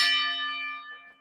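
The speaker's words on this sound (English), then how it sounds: "Ringing the bell there for Cecile." A single bell strike rings out clearly and loud, its bright metallic tone with steady overtones slowly fading over about a second, with nothing else heard.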